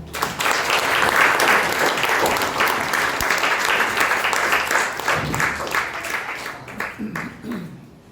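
A seated audience gives sustained, loud applause to welcome author Ravi Philemon before his speech at a memoir book event, the clapping swelling early then gradually tapering off.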